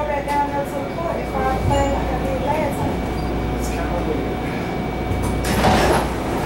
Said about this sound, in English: Both side doors open.